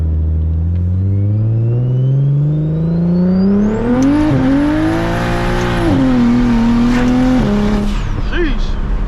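Single-turbo BMW 335is engine revving hard while driving through a residential area to warm the tires, pitch climbing steadily then surging and dropping with gear changes, loud and close with a whistling turbo whine.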